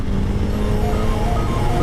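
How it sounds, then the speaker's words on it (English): Suzuki Hayabusa motorcycle engine revved hard, a loud, steady, buzzing engine roar held at high revs throughout, close by and with no talking. "You want a rev bomb?"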